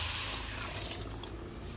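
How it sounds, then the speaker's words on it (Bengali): Water poured into a cooking pot of fried spices, a steady, close rushing pour that runs continuously and eases slightly toward the end, heard alone. "এখন এই যে পরিমাণ মতো পানি দিয়ে দিব।"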